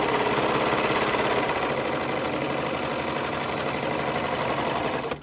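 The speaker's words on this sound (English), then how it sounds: "We're serging our outseam seam allowance." A serger overlocks the seam allowance of a pants outseam, a fast, steady mechanical chatter that runs close and continuous for about five seconds before stopping abruptly, with no talking.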